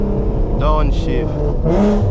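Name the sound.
car engine revving and downshifting on Megan Racing coilovers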